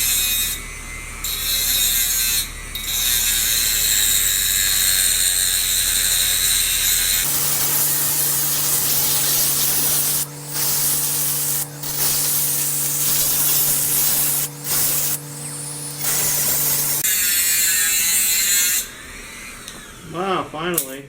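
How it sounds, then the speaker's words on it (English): A Dremel rotary tool cuts through stainless steel with a loud, continuous high-pitched whine. The tool's pitch drops and rises as it bites into the metal for about ten seconds, then it winds down and stops. "Now we're going to try to cut this with a Dremel."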